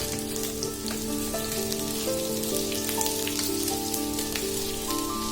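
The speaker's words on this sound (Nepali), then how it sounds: "अझै फ्राई गर्दा यतिको भएपछि चाहिँ अब यसमा प्याज हालौँ" Onions sizzle steadily with buffalo meat in a pan for Nepali-style spicy buff gravy, a continuous close crackle broken by faint scraping as they are stirred, with no talking.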